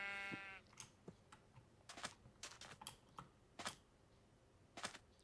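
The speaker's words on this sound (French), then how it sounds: "vu que c'est vraiment un clavier genre purement mécanique, il fait du bruit quand on écrit dessus, un petit peu comme une machine à écrire" Keys clack on a Razer mechanical keyboard in irregular bursts of sharp, close taps with short pauses, after a brief bleating animal sound at the start.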